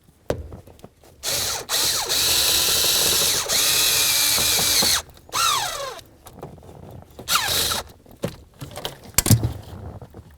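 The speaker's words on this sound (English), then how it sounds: "Slide it in, and then snug up your bolt." Ratchet tightening a bolt on the ignition switch of a 1999-2007 Ford F-250, loud, close, buzzing clicks in long sustained runs, then shorter bursts with metallic squeaks and rattles.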